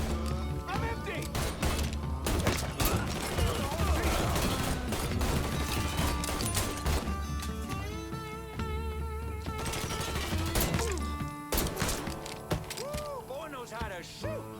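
Bursts of gunfire in the Mafia III: Definitive Edition firefight, loud and sharp cracks and volleys mixed with mechanical clatter and shouting voices.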